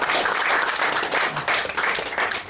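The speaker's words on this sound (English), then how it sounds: "give this lady a round of applause" A live comedy show audience breaks into loud, full applause for a woman volunteer, dense clapping swelling in short waves over a couple of seconds.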